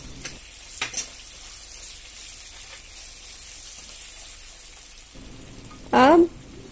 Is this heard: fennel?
yes